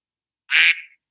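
The duck quack message alert tone on Mac OS X Yosemite sounds once: a short, nasal, bright quack, clear and alone against silence.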